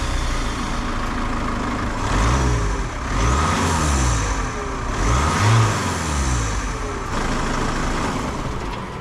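A Peugeot RCZ HDi diesel engine with its stock air intake revs up and drops back several times in repeated surges, loud and close, with a rough, gravelly tone.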